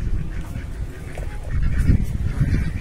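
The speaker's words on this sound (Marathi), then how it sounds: "हे बरेच वेगवेगळ्या प्रकारचे पक्षी आहेत" Ducks and geese honk and quack in a garden with many kinds of birds, a busy overlapping chorus of calls that grows louder midway, close by.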